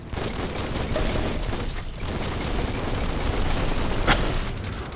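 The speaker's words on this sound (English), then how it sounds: "Boom. Explosion." Explosion in the video game Biomutant: a dense, sustained rumble of blasts and crackling booms fills the scene, with a sharper burst near the end and no talking.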